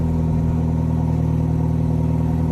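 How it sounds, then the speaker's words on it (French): Exhaust note of a BMW 330e hybrid with a 292 hp drivetrain, recorded close at the tailpipe as the engine runs, a loud, steady low idle rumble with an even pulsing throb and no voices. "Vas-y, démarre le moteur pour qu'on entende."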